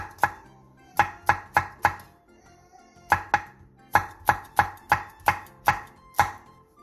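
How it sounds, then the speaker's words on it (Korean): A knife chops Cheongyang green and red chili peppers on a cutting board in quick, sharp, close taps, coming in bursts of three or four with a brief pause partway through. "고명으로 올릴 청양고추와 청양홍고추 조금을 쫑쫑 썰어주세요."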